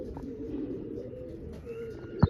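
Pigeons coo softly at a rooftop loft with a net-covered perch, a low murmuring drone of calls that runs on continuously and faintly, with a brief knock near the end.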